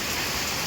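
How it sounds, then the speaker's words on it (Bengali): Heavy rain pours in the mountains near Lepcha Jagat, a dense, loud and steady hiss of drops on surfaces with no break. "বিশাল জোরে বৃষ্টি পড়ছে"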